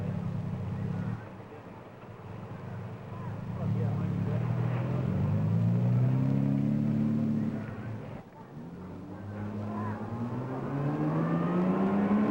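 Ferrari sports cars racing through mountain roads toward Clermont-Ferrand in a 1964 Grand Prix de l'Europe road race, engines rising in pitch as they accelerate past, moderately distant, with a narrator talking over them.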